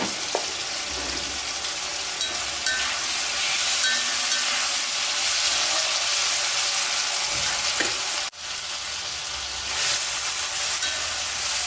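Ingredients for a Chettinad fish curry sautéing in a pan: close, continuous frying sizzle with a few stirring scrapes and clicks, no voices.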